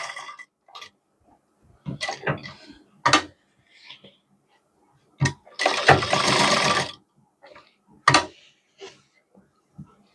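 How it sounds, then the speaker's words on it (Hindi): A sewing machine stitches salwar fabric in short, separate runs of rapid mechanical whirring, with the longest burst lasting about a second and quiet pauses and small handling noises between. "तो इस तरह से आप यहाँ से सिलाई को स्टार्ट करेंगे और इसमें सिलाई लगाएंगे।"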